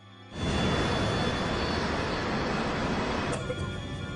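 A loud, continuous roar of a DC-9 jet airliner's engines starts abruptly and holds steady and close as the plane dives, then eases slightly near the end.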